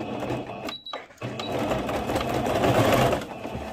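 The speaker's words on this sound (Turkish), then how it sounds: "Yıkandığında lastiğin dönmemesi için orta kısımdan da bir dikiş gidiyorum." A sewing machine stitches a gathered skirt with a fast, continuous mechanical whirring, pausing briefly near the start before resuming steadily, close by.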